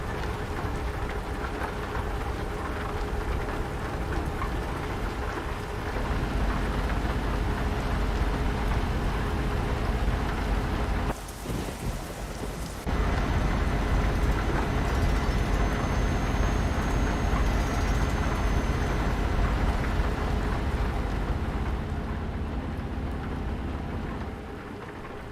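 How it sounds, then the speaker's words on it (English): Rain heard through an open cab window of a truck in Euro Truck Simulator 2, steady hiss of falling rain with a low engine rumble beneath, a short dip mid-way, then continuing evenly. "You can feel the rain."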